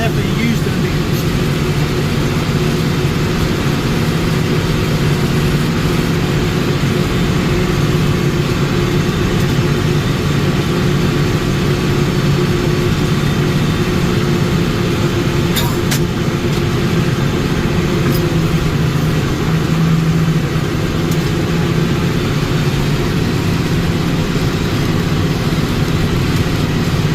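A lawn tractor engine drones steadily and loudly throughout a spring mowing run, a constant low rumble with someone talking over it.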